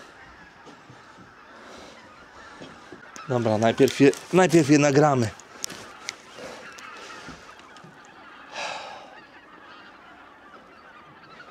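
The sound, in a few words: large flock of geese honking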